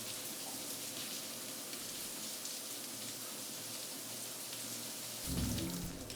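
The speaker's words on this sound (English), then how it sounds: "Rain ASMR" Rain falls in the video game Cyberpunk 2077 as a constant soft hiss of drops, fairly quiet throughout, with a brief low rumble near the end.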